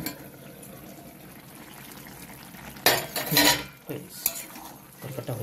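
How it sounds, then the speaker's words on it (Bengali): A metal lid clatters off a pot of potato and soybean curry, followed by a few sharp clinks and scrapes of utensils against the pot after a quiet stretch. "এবার ঢাকাটা খুলে আমি দেখবো কী অবস্থা হয়েছে"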